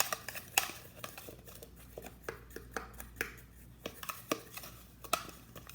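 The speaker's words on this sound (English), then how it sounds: "And I'm gonna just mix it all together." Kinetic sand being mixed together by hand: soft gritty scrapes and light taps recur in a loose, uneven rhythm, close and fairly quiet, with no voices.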